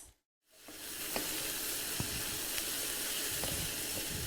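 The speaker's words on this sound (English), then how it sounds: "So this is boiling." Beans boil in a pot on a stove after a brief silence, giving a steady bubbling hiss with occasional soft pops, close and even.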